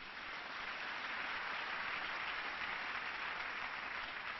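A church congregation applauds together, producing a dense, steady roar of clapping that holds at an even level throughout without breaks, with no clear voices rising above it.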